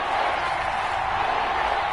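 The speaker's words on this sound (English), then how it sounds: "The crowd getting into it as we come up on a big third down" Steady, dense stadium crowd roar from an American football video game on PS4, a continuous wash of cheering that holds at a constant level for the whole stretch, with no distinct voices or claps standing out.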